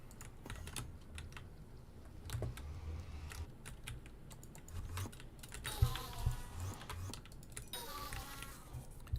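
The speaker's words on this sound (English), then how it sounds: "I'm just typing the warp teleport to get there" Quick, quiet clicking on a computer keyboard while playing Hypixel Skyblock in Minecraft: uneven bursts of keystrokes, close-miked, with a brief thump and a few louder clacks midway, no talk.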